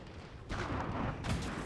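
A Pak 38 anti-tank gun shot in the Gates of Hell war game, slowed down, sounds as two broad booming bursts that swell and linger, loud and close with no talk.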